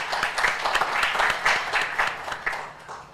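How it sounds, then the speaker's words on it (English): A workshop audience gives a round of applause for the organisers, a lively, uneven patter of many hands clapping with distinct individual claps standing out, continuing for about three seconds. "we give them a round of applause."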